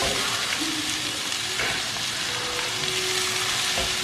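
Steamed beans go into a pan of sautéing onions and tomatoes, where a constant hiss of frying carries on with a brief stir and clatter partway through.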